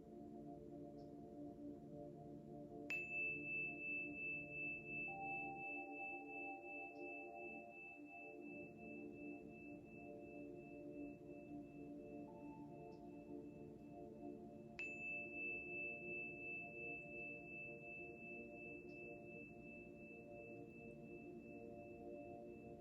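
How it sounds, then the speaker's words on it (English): Soft sustained electronic tones layered over a low droning hum, with a couple of higher pure tones sliding in and holding steadily, calm and quiet. "In a moment, you're going to hear more tones."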